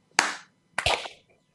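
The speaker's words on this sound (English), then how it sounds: "So it's 1, 2, 3, and clap." Clapping from a group joined over a video call comes as two short, ragged bursts about half a second apart, loud and close, with silence around them.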